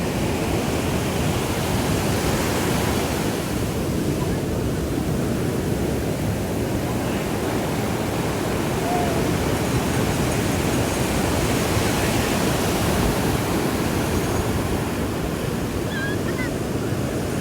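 Sea surf washes in a steady, loud roar of breaking waves, with wind buffeting the microphone throughout.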